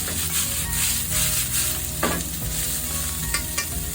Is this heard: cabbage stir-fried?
yes